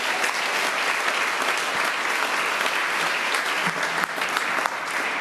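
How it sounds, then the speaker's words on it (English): A crowd of volunteers at a New York City pre-K kickoff rally bursts into steady, dense applause, close and loud, continuing evenly for several seconds without speech over it. "give yourselves a round of applause"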